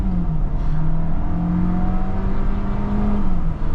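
A Seat Tarraco FR SUV with a 1.5 TSI engine accelerates at full throttle, its steady, close engine drone climbing in pitch through the gears with no talking.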